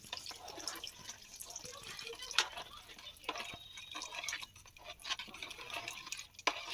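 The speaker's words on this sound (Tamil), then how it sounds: "இப்போ கடலை மாவை நல்லா தண்ணியில கரிச்சு அதில் ஊற்றிட்டு இருக்கீங்கல்ல?" Gram flour mixed in water pours into a cooking pot, making faint soft dripping and trickling splashes in uneven bursts.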